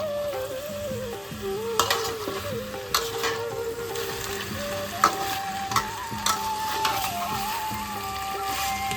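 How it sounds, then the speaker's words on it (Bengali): A pan of chicken curry with tomato sizzles and crackles steadily as fried potatoes are added and stirred in. Loud and close, with occasional scraping clinks of a spoon. "এবার আমরা ভেজে রাখা আলুগুলো দিয়ে দিচ্ছি।"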